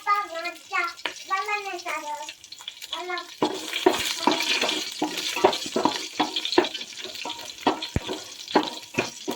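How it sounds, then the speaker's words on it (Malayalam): Four slit green chillies dropped into hot oil for a Palakkad-style chicken curry. A voice sounds briefly at first, then a loud, busy crackling and spitting sizzle that keeps going. "ഒരു 4 പച്ചമുളക് എണ്ണയിലേക്ക് ഇട്ട് കൊടുക്കുന്നുണ്ട്"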